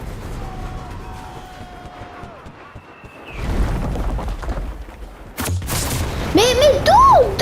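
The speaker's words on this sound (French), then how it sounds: "Oh, il y a une grosse explosion." A big explosion in the war video game Enlisted booms suddenly amid game sounds, followed by sharper bursts and whistling effects, loud and close.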